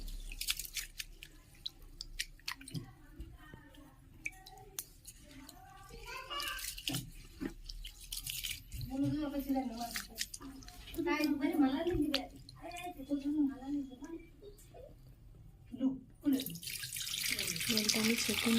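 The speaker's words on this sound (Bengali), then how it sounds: "এই চালটা আমি ভালোভাবে ধুয়ে নেব। আমি জল দিয়ে দিলাম" Gobindobhog rice being washed by hand in water in a kitchen vessel, with intermittent swishing and splashing near the microphone, mixed with someone talking throughout and a louder running-water rush near the end.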